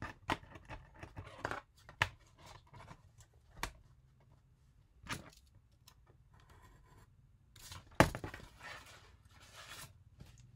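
Scissors cut through craft material for an Easter egg compartment box, giving a handful of short, close snipping and rubbing sounds at irregular intervals, with one sharper snip and quiet handling noise between cuts.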